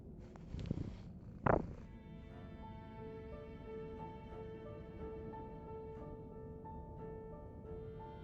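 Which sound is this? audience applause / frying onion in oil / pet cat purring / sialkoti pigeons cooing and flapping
pet cat purring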